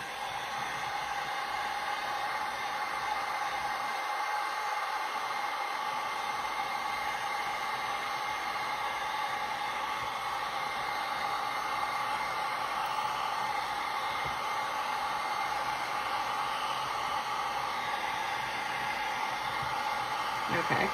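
A hair dryer blows steadily on mica powder coating a mould, a loud unbroken whooshing roar lasting the whole stretch with no talking over it.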